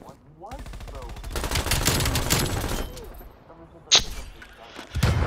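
Sustained RPD light machine gun fire in Call of Duty Black Ops Cold War multiplayer, a loud rapid burst running for several seconds, then a lone sharp report and a fresh burst at the end.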